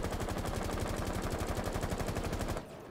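L85A2 assault rifle in Rainbow Six Siege firing one long sustained full-auto burst, rapid evenly spaced shots that stop abruptly near the end, loud and close with no talk.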